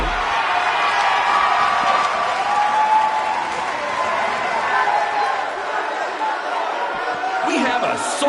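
A sold-out crowd at a wrestling show cheers and applauds in a sustained, roaring wash of clapping and shouting, with voices mixed into the noise throughout.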